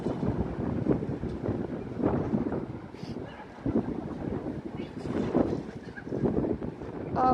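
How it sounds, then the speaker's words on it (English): Wind buffets the microphone on a New York City Upper West Side street in loud, rumbling gusts that swell and fade irregularly throughout. "it is getting really, really windy"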